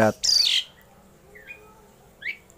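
An Asian pied starling gives a loud burst of harsh chattering calls, followed by two brief, fainter chirps after a pause.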